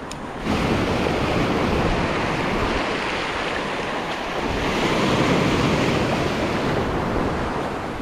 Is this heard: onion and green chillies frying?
no